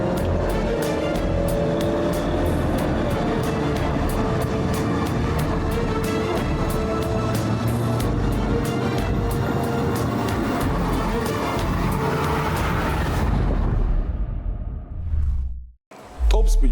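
A car drives with a loud, steady engine and road roar that holds for most of the stretch, then drops away sharply near the end.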